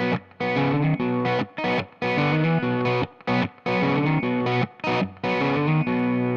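Distorted electric blues guitar lick in a boogie style, choppy phrases of stacked notes broken by short gaps, loud and close with effects coloring the tone, no voices.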